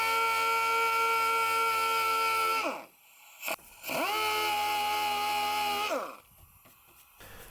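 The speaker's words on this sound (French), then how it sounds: "je décape la partie plate de la tôle à l'orbital" An orbital sander strips the flat sheet-metal body panel of a BMW 330ci E46, whining loudly in two sustained runs that each spin down, separated by a brief pause and followed by quieter handling noise.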